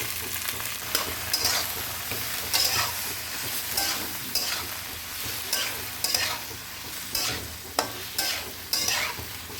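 Tomatoes going into a frying pan of mushrooms and being stirred, with a steady sizzle and repeated scraping strokes of the spatula at a regular rhythm, close and moderately loud, with no talking.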